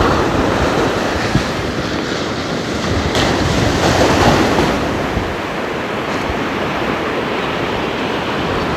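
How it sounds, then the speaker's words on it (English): Ocean waves wash onto a beach at sunrise in a loud, steady roar of surf, mixed with wind buffeting the microphone and a swell in the middle, with no voices. "I'm showing you this beautiful beach and the waves, the tides."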